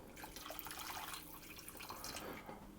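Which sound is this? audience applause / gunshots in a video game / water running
water running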